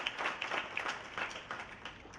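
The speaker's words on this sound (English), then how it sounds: "let's clap for that" An audience at a station grand opening gives a short round of scattered, moderately faint clapping that tapers off within a couple of seconds.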